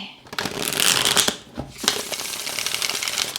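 Tarot cards shuffled by hand, a close, loud run of rapid riffling flutters with a brief pause and then a second longer riffle, no voice heard.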